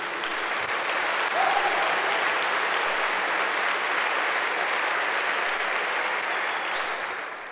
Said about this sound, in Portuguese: Vamos dar um aplauso ao Senhor por isso?